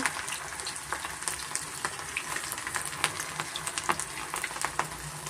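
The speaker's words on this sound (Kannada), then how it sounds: "ಎಣ್ಣೆ ಚೆನ್ನಾಗಿ ಕಾದಿದೆ ಇವಾಗ ನಾವು ಮಿಕ್ಸ್ ಮಾಡಿದಿರಲ್ಲ ಬಾಳೆ ಹೂವು ಮತ್ತು ಆನಿಯನ್ ಇದೆಲ್ಲ ಪಕೋಡ ಥರ ಬಿಡೋಣ" Banana flower and onion pakoda batter fries in hot oil, a steady close sizzle with frequent crackling pops throughout and no talking.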